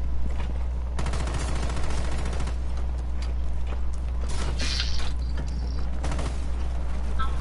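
Gunfire in a round of Rainbow Six Siege style tactical shooter play, scattered shots and mechanical clatter over a steady loud background hum, with no voices.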